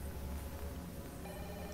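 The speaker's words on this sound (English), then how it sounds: "Better answer the phone." A telephone ringing in the Fatal Frame horror video game, a faint ring heard over a low hum of game ambience, alone without talk.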